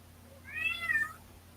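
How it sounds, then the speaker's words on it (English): A pet cat meows once indoors, a single rising-and-falling call that is faint and somewhat distant over a quiet low hum. "Is that your cat?"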